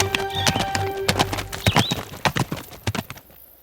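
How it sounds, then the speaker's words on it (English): Horses gallop away in a sound effect, with rapid clip-clop hoofbeats and a brief neigh, loud and close at first and then fading into the distance. "went charging away on horseback to find Celia and Rosalind"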